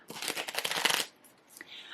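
A deck of playing cards is riffled and shuffled up close, a dense burst of papery flutter for about a second, then softer handling.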